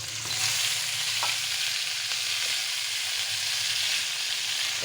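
Milkfish and tomatoes fry in a pan with a steady, close, loud sizzle and hiss that runs the whole time, with a few faint utensil ticks and no talk.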